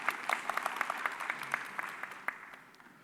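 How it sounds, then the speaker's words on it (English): A conference audience claps in a scattered, lively burst, sharp individual hand slaps near at first, then thinning out and fading over about three seconds. "Yes, you can clap to that."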